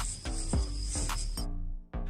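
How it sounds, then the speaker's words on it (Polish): Power drill boring a hole in a gas chamber insert, a continuous loud whirring grind with a high whine that stops briefly and then starts again. "Idziemy wiercić."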